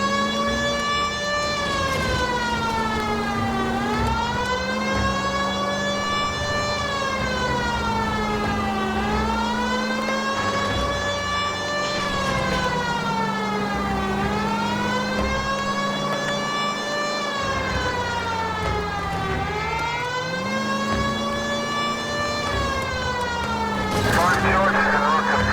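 A police car siren in the 1940s Los Angeles crime video game L.A. Noire wails continuously, its pitch sweeping up and down in a steady repeating cycle, loud and close, with engine rumble underneath.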